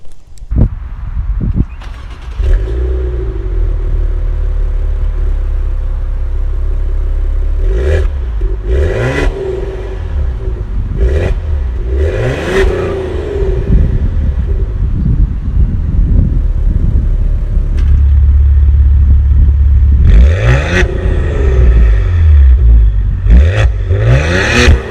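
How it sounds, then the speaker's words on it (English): A Maserati Ghibli SQ4 Gransport exhaust sounds up close in a series of loud revs and throttle blips, deep rumbling bursts rising and falling over about twenty-five seconds with a steady idle between. "One thing I absolutely love about this car is its exhaust."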